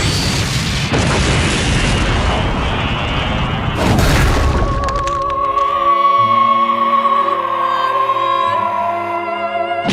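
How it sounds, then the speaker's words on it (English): An animated Big Bang Attack energy blast from Dragon Ball Z Abridged erupts in a loud, sustained roaring explosion with a second surge, then gives way to ringing musical tones. "Big bang attack!"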